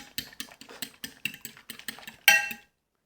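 Seasoned flour and egg are stirred in a bowl, a quick run of rhythmic scraping strokes, close and distinct, ending in one louder clink before silence.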